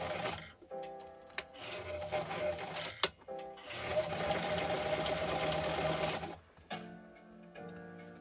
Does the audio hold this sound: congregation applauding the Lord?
no